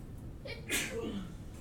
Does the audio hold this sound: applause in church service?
no